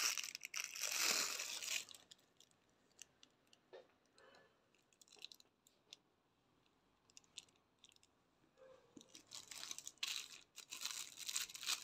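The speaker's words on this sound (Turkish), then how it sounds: "Şimdi hemen poşetinden açıp gösteriyorum." Plastic bag wrapping around a cutlery set crinkles and tears open, with loud rustling bursts at the start and end and scattered small crackles between.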